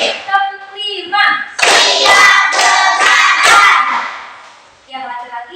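A classroom group claps a counted clap routine, the fifth pattern, as a dense burst of loud rhythmic clapping mixed with group chanting that fills the middle of the clip, with the leader speaking before and after.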